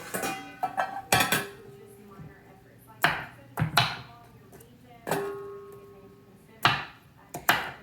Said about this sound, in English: I'm gonna chop it into smaller pieces because that'll make it go in a bowl a little nicer